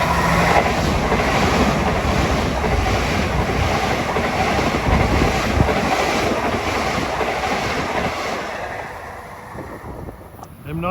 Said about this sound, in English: approaching west is train 1709 from Huntington to New York at 4:14